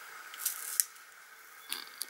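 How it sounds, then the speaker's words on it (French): Sharp scissors snip through paper to cut thick strips for a handmade card, with a few crisp, separate cuts heard up close and no talking. "Donc il faut des bons ciseaux."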